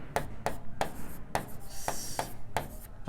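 A teacher writes on a classroom board during an English grammar lesson, leaving a series of short, regular scratchy strokes, about seven in a row, under a faint room hum.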